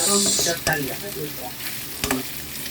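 Garlic and onion sautéing with pork in a pan, a close crackling sizzle with clattering spoon strokes and a couple of sharp scraping knocks as the meat is stirred, no one speaking.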